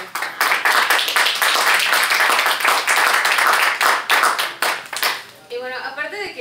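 A crowd at a poetry reading at FIL Guadalajara 2023 claps energetically in sustained applause, loud and close, before it tapers off and a voice begins speaking at the end.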